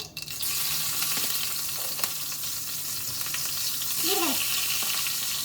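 Mustard seeds, asafoetida and green chili crackle and sizzle steadily in hot oil for an Indian onion sabji, a loud continuous frying hiss with a brief stir or scrape near the end.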